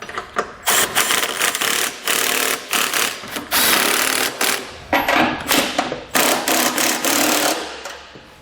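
A power tool snugs down the mounting hardware of an EcoHitch Invisi trailer hitch receiver on a 2020 vehicle. It fires loud, close, repeated short bursts in an uneven rhythm, with brief pauses between them and no talking.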